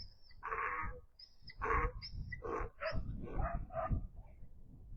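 Several dogs barking on a farm where long-eared animals are penned, with repeated loud barks in bursts over about five seconds, fairly close, and no talking.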